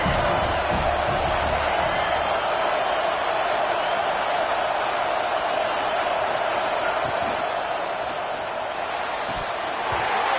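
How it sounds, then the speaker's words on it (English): A home crowd roars at a football game, a dense, continuous wash of cheering and shouting from a packed stadium, loud and steady throughout with commentary mixed in. "how nice is it to have the home crowd going absolutely bananas?"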